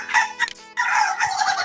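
A chicken clucks in a quick run of close, loud calls, with a short break, then a longer stretch of clucking.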